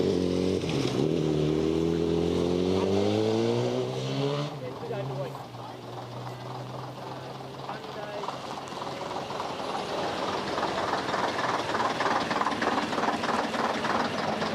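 Railmotor 592 rolls in at a Steamrail open day, a loud engine drone with strong harmonic tones rising then settling into a steady rumble and hum as it pulls up nearby, with voices in the background.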